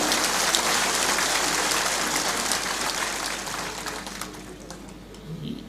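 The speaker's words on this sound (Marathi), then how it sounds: "आपण सर्वांनी टाळ्या वाजवून पहिल्यांदा पवार साहेबांचं या ठिकाणी स्वागत करा" Crowd at an outdoor political rally clapping to welcome Sharad Pawar, a dense, steady wash of many hands applauding from a distance that holds for several seconds, then gradually thins and fades toward the end.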